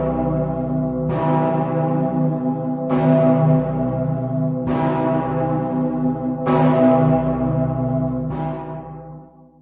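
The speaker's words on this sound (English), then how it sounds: "that's Fat Peter the bell that can be heard if you're there at the right day, being rung and resounding round Cologne" Fat Peter, the great bell of Cologne Cathedral, rings with five deep, loud strikes about two seconds apart, each booming hum overlapping the last and sustaining between hits, with no voices.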